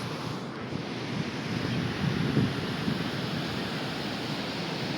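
Big sea waves at Chandrabhaga beach rush and break in a continuous surf roar, with wind buffeting the microphone and the wash swelling briefly midway.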